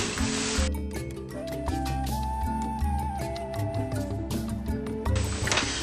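A BindItAll binding machine punching through thick card chipboard gives a loud, close mechanical whir with a humming tone, and sharper clunks near the start and the end.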